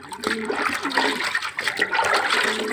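Water is poured and swirled in a container to mix a cooling drink for pigeons during hot weather. It makes a continuous, close sloshing and splashing that stays fairly steady for about three seconds, with no talking.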